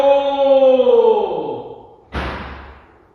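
A door slams shut with one sharp thud after a long drawn-out creaking groan, loud and close.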